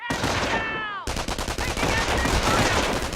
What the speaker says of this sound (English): The squad is taking enfilade fire from that MG.